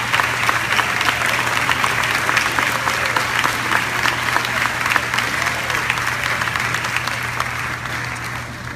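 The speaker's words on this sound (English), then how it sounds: "Will everyone please join me in a round of applause to thank you for what they've done for" At a school gala, a large audience applauds to thank former teachers, sustained even clapping running steadily throughout with a constant low hum underneath.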